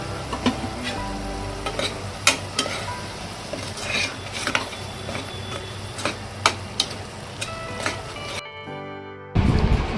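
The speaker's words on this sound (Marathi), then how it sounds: "वाटण तेल सुटेपर्यंत चांगलं परतून घ्यायचंय." Spice paste with turmeric, red chilli powder and Agri masala frying in oil while a spoon stirs it in a pan: steady sizzle with scraping strokes and clinks, close, ending in a brief gap and a louder burst.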